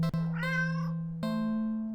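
A cat in a video game gives a single clear meow, close and distinct over a steady low electronic hum.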